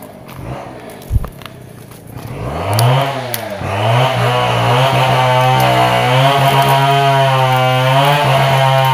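A chainsaw engine starts up near a hut in a rural setting, sputtering briefly before rising into a loud, sustained idle and rev that drones on steadily. Faint footsteps sound at the start.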